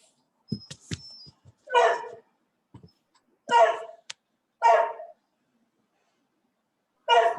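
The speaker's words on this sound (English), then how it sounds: "Whose dog is that?" A dog gives several separate bursts of barking with whimpering between them, close and clear, while a few brief quieter noises sit in the gaps.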